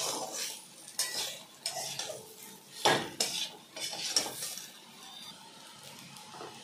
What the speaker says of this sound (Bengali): কিছুক্ষণের জন্য সব সবজি আর মশলা মিশিয়ে নেব ভালো করে